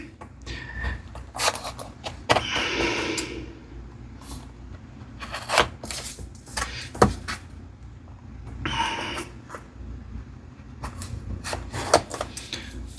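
Flashlight packaging tabs are cut by hand, giving a series of sharp, close snips and clicks at irregular intervals, with rustling plastic and cardboard handling between them.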